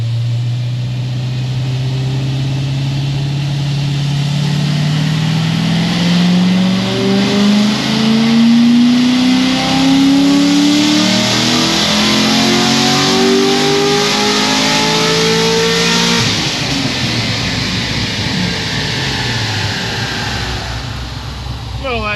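A low-mileage sports car engine revs up hard through a long rising pull, then drops in pitch on a downshift, loud and close throughout, with the exhaust note dominating and no clear talk over it.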